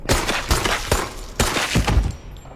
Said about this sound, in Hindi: आखिर इसने गोलियां चलवाई थी यार मेरे से